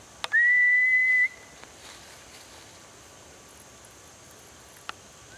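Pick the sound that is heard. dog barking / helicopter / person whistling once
person whistling once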